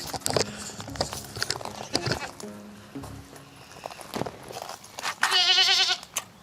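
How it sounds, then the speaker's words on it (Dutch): Goats bleat repeatedly at close range on a farm, with a loud, wavering bleat near the end over clattering hooves and background voices. "Geitjes."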